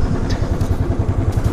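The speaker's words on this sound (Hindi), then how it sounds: "ये हम नहीं, मेरा गाड़ी आवाज़ कर रहा है" A motorbike engine thumps and clatters loudly at close range during a ride on a mountain road toward Lamayuru in Ladakh, with a rapid, pulsing low beat.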